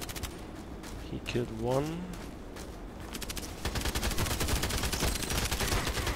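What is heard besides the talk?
gunshots in the video game Contract Wars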